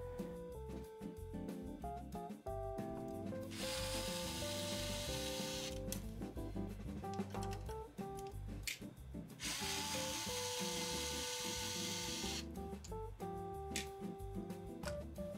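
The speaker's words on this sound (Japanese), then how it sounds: "パワー素子を固定しているネジを外します。" Screws holding the power transistors of an amplifier are being undone, heard as close metallic tool clicks and scraping with bursts of rough, hissy turning noise, set against a steady low hum.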